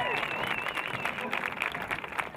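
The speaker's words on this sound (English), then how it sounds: "Let's give Emily a round of applause" An audience at a girls' high school lacrosse game applauds a player, a steady stretch of clapping and crowd noise heard alongside an announcer's voice.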